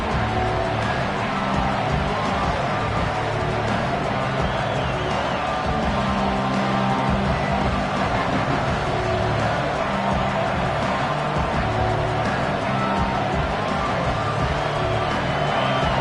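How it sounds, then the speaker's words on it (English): A home stadium crowd at a college football game roars steadily just after kickoff, a dense, continuous wall of cheering that holds at an even level throughout, with no break or lull. "this home crowd is fired up and ready to make a difference today"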